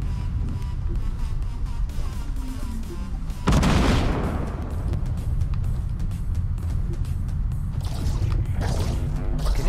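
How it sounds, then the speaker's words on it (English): Distant and mid-range gunshots and a sharp blast in a Fortnite Battle Royale match, scattered bangs over a busy mechanical game background with a short burst of talk. "I can hear people shoot"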